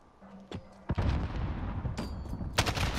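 Video game AK rifle fire: a couple of sharp close shots, then a dense, continuous barrage of loud gunfire and booms running to the end, with more sharp reports near the finish.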